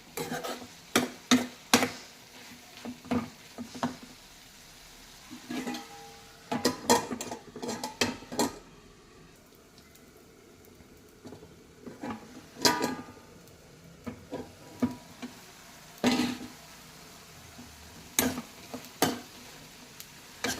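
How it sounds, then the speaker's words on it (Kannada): Eggplant frying in oil in a pan with tomato, onion and green chilli, a soft sizzle beneath repeated sharp spoon clicks and scrapes against the pan, in irregular bursts of stirring. "ಹಾಗೆ ಎಣ್ಣೆಲೆ ಬೇಯಿಸಿ ಅಂದರೆ ಫ್ರೈ ಮಾಡ್ತಾಯಿರಿ ಬದನೆಕಾಯಿ ಬೇಯುತ್ತೆ"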